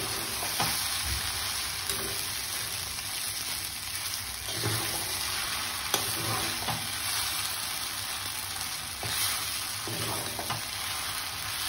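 Egg noodles stirred and frying in a hot pan, Andhra style, a steady close sizzle with scraping and stirring strokes repeating every couple of seconds throughout.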